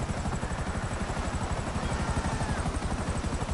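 A helicopter flies in the video game GTA Online, its rotor beating in a fast, even, thudding rhythm that stays loud and close throughout, with no voices.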